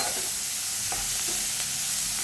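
Cauliflower sautés in a pan with a continuous, close hiss of sizzling, broken by a few soft scrapes of stirring.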